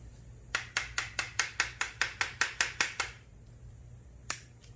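About a dozen sharp, evenly spaced metal strikes ring out as a hammer knocks on long-seized bolts of a Suzuki GSX-R750 motorcycle, followed by a pause and one last isolated hit.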